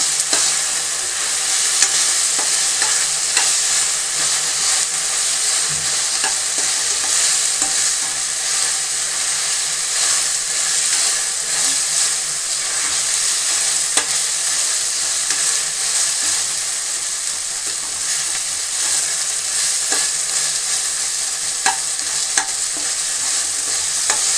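Ginger garlic paste stir-fried in a pan for a country chicken fry, giving a steady, loud sizzle with spoon scraping throughout and no voices.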